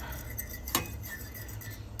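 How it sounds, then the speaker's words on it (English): Spoon stirring a pot of beef jerky green chili stew with a little water being brought to a boil, one sharp metallic clink against the pot over a low steady hiss, no talking. "Let's just stir it."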